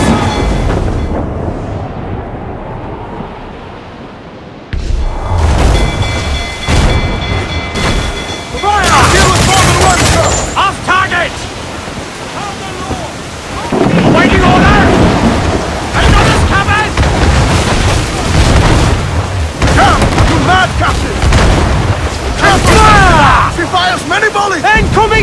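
Cannon fire and explosions roar through a naval battle in Assassin's Creed 4, heavy booming blasts rolling in repeated waves over a dense rumbling bed, with shouted voices breaking in between volleys.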